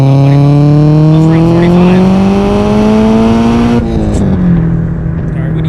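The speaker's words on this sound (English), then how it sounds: "All right, we're gonna floor it right now." A big-turbo Subaru STI is floored at full throttle from inside the car. The loud engine climbs steadily in pitch for several seconds, then drops sharply at a gear change and pulls on more quietly.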